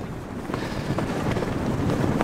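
Strong wind gusting to 28 knots buffets the microphone on a sailing boat at sea, in rumbling gusts, with rushing air and water noise rising and falling throughout.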